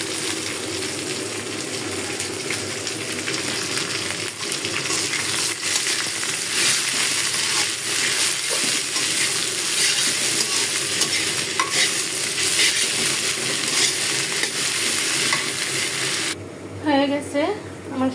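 Jute leaves being fried and stirred in a pan, with a continuous loud sizzle and repeated scraping and clinking strokes of the spatula, close up, ending with a brief pause and a few softer sounds.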